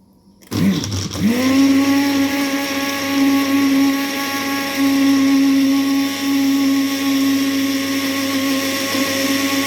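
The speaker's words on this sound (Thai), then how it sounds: "ก็จะปั่นเครื่องแกงจ้ะ" A blender grinds a Thai curry paste of shallots, garlic, turmeric, fingerroot and shrimp paste, starting after a brief click and then running as a loud, steady whirring motor with a strong hum for the rest of the clip.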